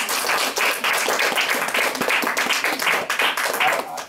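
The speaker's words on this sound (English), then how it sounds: "So you deserve a big applause because you are very," A Toastmasters meeting audience applauds, dense close clapping with a slightly uneven, pulsing texture that continues for the whole stretch.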